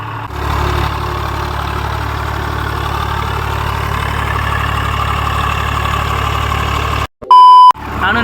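A tractor engine idles steadily with a loud, even low rumble for about seven seconds. A short, sharp electronic beep follows near the end.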